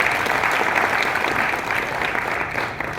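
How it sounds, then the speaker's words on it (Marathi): An audience bursts into sustained, dense applause at an award felicitation event, loud and even for a few seconds before tapering slightly at the end, with no voices over it. "मुळे काकांसाठी एक टाळ्यांचा कडकडा"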